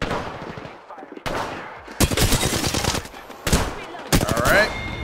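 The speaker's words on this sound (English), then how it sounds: "Getting shot at." Apex Legends gunfire: bursts of rapid automatic shots and sharp cracks come in several loud clusters, close and punchy, separated by brief lulls.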